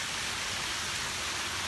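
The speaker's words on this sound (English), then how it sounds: "They've got this waterfall behind me, a fountain right in the middle there" A waterfall and fountain at a cemetery produce a steady, soft broadband rush of falling water, even and unbroken, heard from a moderate distance with no voices.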